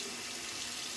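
Steady running water rinses shaving lather off a freshly shaved head, a continuous close splashing hiss with no voices.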